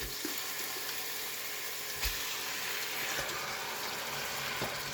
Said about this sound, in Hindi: चिकन ऐड करके तो थोड़ा सा फ्राई करेंगे